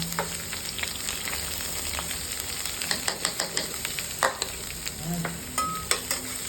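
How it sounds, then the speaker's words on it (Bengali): Corn kernels lightly frying in a pan for Hakka noodles, a steady close sizzle with scattered clicks and pops as the kernels are stirred, continuous throughout with no talking. "হালকা করে এটাকে ফ্রাই করো"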